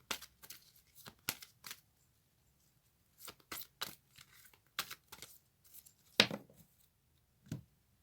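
Tarot cards shuffled and drawn during a reading: a series of short, papery riffling bursts separated by quiet pauses, close and fairly soft, ending in a single sharper snap.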